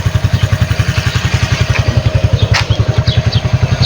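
A motorcycle engine runs close by, idling with a steady, rapid thumping pulse and no voices over it.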